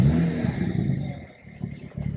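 A BMW E92 335i engine is started from cold, beginning with a loud burst and rev that settles into a rougher, quieter idle with some clattering pulses, heard up close.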